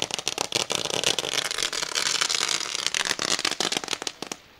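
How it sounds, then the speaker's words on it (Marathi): Fireworks burst at a village cricket tournament near Panvel, a rapid string of sharp crackling pops and bangs packed tightly together, loud and continuous before tapering off at the end. "फटाक्यांची आतिषबाजी पाहायला मिळते"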